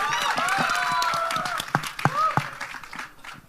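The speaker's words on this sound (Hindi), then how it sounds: "कम ऑन गाइस, जोरदार ताली होनी चाहिए।" Audience clapping in a crowd setting, a fairly steady wash of applause with a few louder individual claps toward the end, blended with some voices and background noise.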